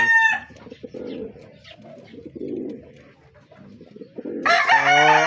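Pigeons cooing in a low, throaty murmur that rolls on steadily throughout, with a rooster crowing loudly at the very start and again near the end.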